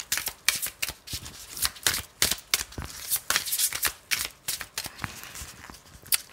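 A deck of playing cards being shuffled at close range, giving a run of crisp riffling bursts that repeat in a quick, uneven rhythm with brief pauses between them, alone without any voices.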